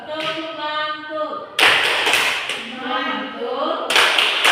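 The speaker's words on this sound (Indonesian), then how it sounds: "kita beri tepuk mantul untuk kelompok 1" A classroom group gives a rhythmic 'tepuk mantul' cheer, sharp bursts of clapping that stop and start while voices chant along between the claps.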